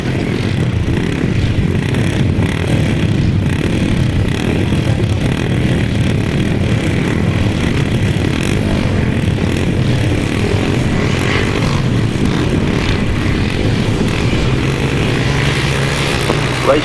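Several 250cc classic grasstrack motorcycles race together, a loud continuous engine roar blending into one sustained drone at a championship meeting.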